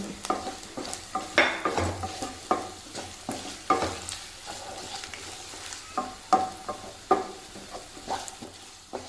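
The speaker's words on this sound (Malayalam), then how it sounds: "വഴട്ടുന്നു" Beef bone curry sautés with spices in a pan: a low, steady sizzle is punctuated by repeated scraping stirs and clinks of a spatula against the metal, close and without speech.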